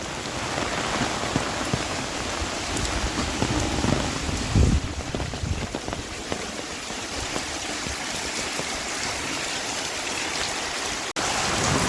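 Heavy rain pours down steadily outdoors, a dense, loud, even wash of drops hitting surfaces, with a brief heavier splash around the middle and no voices.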